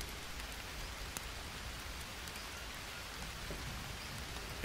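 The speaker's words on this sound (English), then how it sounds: "is that rain?" Steady rain falls in the jungle survival game Green Hell, a dense, even hiss of drops on surfaces that persists throughout with a few louder drop hits and no talk.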